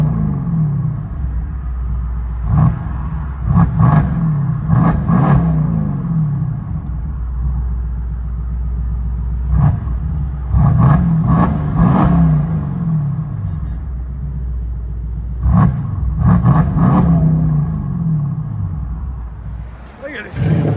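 A Mercedes C63s AMG 4.0L twin-turbo V8 with a catless straight-pipe exhaust, heard from inside the cabin, idles with a deep rumble and barks through several sharp, loud rev blips in repeated clusters.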